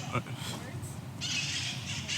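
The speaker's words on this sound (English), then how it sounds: "Some of the wild parrots?" Wild parrots squawk briefly on Lombard Street in San Francisco, mixed with people talking and a steady wash of outdoor noise.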